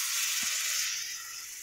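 Cabbage hits a hot pan for Tamil-style muttaikose poriyal and gives off a loud, steady hiss and sizzle. It eases slightly toward the end with a faint clatter, and no voice is heard.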